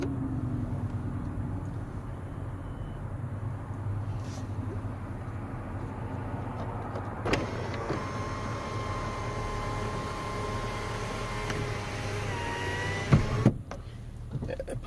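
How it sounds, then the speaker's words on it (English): A steady car cabin rumble, then an electric motor whirs as a sunroof slides shut for several seconds before stopping with a soft clunk. "That puts the sunroof back in place."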